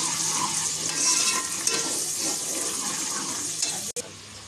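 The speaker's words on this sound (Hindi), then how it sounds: "इस बचे हुए तेल में हमने 2 चम्मच जो है अदरक लहसुन से डाल देती हूँ।" Ginger garlic paste frying in leftover oil while cooking anday cholay, a steady loud sizzle with stirring throughout, close up and with no speech.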